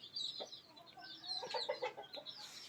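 Several hens in a small breeding setup give soft, quick clucks and short calls, faint and close, with brief bursts scattered across a quiet background.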